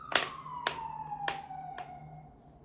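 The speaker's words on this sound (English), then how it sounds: "hold on, that's fucking siren, bro" Emergency vehicle siren wails at a moderate distance, sweeping downward in pitch, punctuated by four sharp clicking taps at even intervals.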